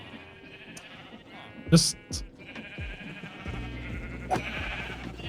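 Sheep in Minecraft bleat a few times, short wavering calls that sit under and between a man's speech.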